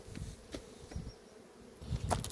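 Steady buzzing of honeybees around the listener at an apiary, with individual insects droning past closer now and then, under faint outdoor background noise.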